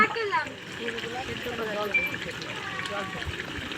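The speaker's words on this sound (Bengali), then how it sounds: "তারপরে জল ঢেলে দেব" Water pours into a big pot of meat curry with potatoes being cooked outdoors at a picnic, a steady splashing gush close by, with voices talking over it.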